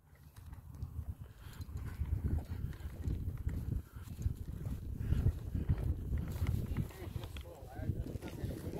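A horse clip-clops along at a walking pace on a cattle farm, steady hoofbeats mixed with low rumbling and rustling nearby.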